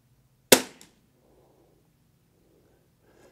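A single sharp rifle shot from a Savage MKII cracks close and loud at a target during a shooting challenge, then decays quickly into near silence with faint breathing afterward.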